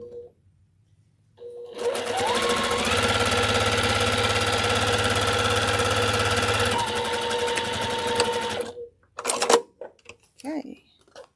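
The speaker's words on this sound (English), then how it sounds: "I'm going to sew forward and then back" A sewing machine stitches forward and then back while a seam is being started, running loud and steady for about seven seconds, shifting pitch partway, then stopping. A few brief knocks follow.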